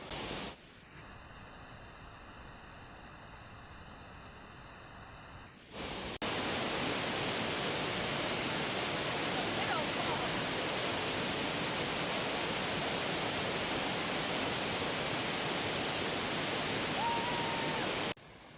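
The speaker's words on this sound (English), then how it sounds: "Long Creek Falls, definitely worth it." Long Creek Falls on the Appalachian Trail, a waterfall whose steady, dense rushing roar swells up after a quieter opening and then holds constant and loud for most of the clip.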